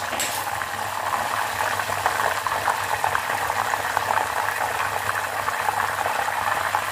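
Banana chips frying in hot oil right after salt water is poured in, a loud, dense, continuous bubbling and crackling hiss that stays steady throughout without any talk.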